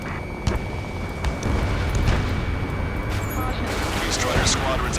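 Gunfire and explosions from the Ace Combat 7 video game over a city under martial law, bursts of shots and booming blasts layered over a rumbling roar, with a voice speaking over it.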